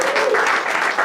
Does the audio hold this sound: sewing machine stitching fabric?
no